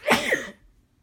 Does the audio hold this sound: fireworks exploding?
no